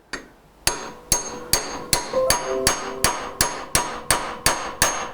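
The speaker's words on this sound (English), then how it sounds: "We're going to hammer just to start it in." Sharp, ringing hammer blows strike about twice per second, a dozen in a row, loud and close with metallic tones between hits, driving a piece into place during woodturning.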